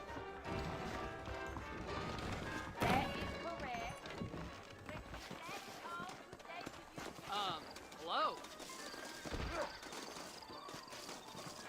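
Saddled horses clip-clop along in the Red Dead Redemption video game, a steady hoof rhythm running under character dialogue and game sounds, with one brief spoken call partway through.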